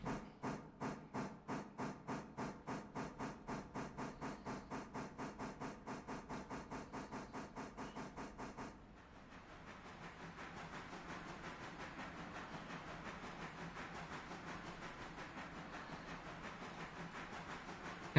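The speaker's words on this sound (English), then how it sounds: "Now we just pull our train forward." A train in the railway game Railroader pulls forward: a steady run of rhythmic chuffing beats for about nine seconds, then a softer continuous hiss and rumble of rolling stock, with no talk.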